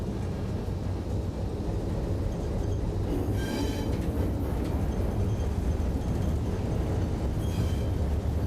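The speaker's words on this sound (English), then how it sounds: "The train has entered the siding to drop off the two empty cars and will now come back onto the main." An ALCO diesel locomotive rumbles slowly into a siding nearby, with low mechanical noise and occasional brief wheel squeals over the steady rolling sound.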